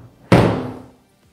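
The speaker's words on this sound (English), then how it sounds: "I'm going to close the door behind me." A door swinging shut into a utility room in a modular home, a single sharp thud close by that decays quickly into quiet.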